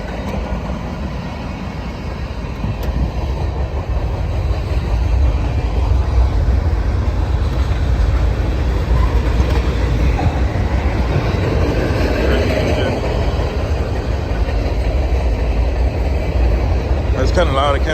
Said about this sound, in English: I can't really talk over the train.